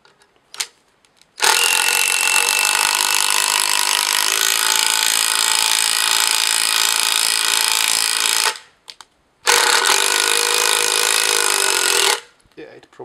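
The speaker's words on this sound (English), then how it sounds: "I'm gonna check if this drill will go as deep as this one" A Hitachi DV18DCL2 cordless driver drill whirs loudly into a block of hardwood in two long bursts separated by a short pause, its pitch sagging slightly under load, with brief quiet before and after.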